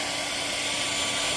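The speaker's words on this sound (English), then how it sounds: "And what the hair dryer is going to do" A hair dryer blows steady hot air over the surface of a stone inlay's epoxy resin to pop the air bubbles in it, giving a continuous, even, broadband whoosh that stays close and fairly loud, with no voices.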